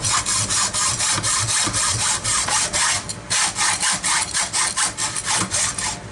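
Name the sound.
Sawzall reciprocating saw cutting tough aluminum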